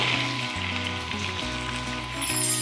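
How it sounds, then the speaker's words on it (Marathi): Chopped tomato, peas and ginger-garlic paste sauté in a pan, a soft steady sizzle running beneath louder background music. "तर मिक्स करूया आणि आणखी साधारण 3 ते 4 मिनिट छान परतून घेऊया."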